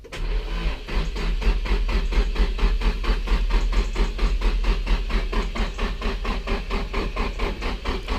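A Nissan S15's engine cranks repeatedly without catching, a steady, loud, rapid rhythmic churning that runs the whole time with no firing, close to the car.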